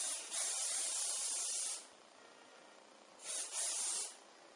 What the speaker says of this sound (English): And then just spray that side all into place.